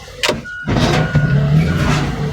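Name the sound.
car crusher hydraulically crushing junk cars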